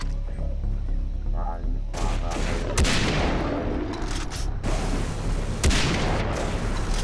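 Gunfire hammering at a tank in Far Cry 3 Blood Dragon: loud, close bursts of shots and heavy booms that come in clustered volleys, with short lulls between them.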